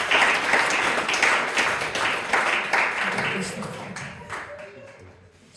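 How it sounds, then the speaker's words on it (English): Audience applause at a live comedy hypnotist show, with a dense, loud patter of clapping that slowly fades while someone speaks over it. "Give them a big round of applause, ladies and gentlemen."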